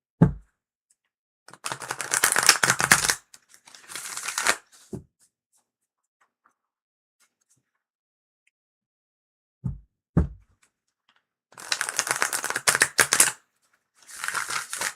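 Tarot and oracle cards riffle-shuffled up close come as quick, crisp bursts of flapping and snapping, two clusters at the start and two at the end, with a few sharp taps and near silence between.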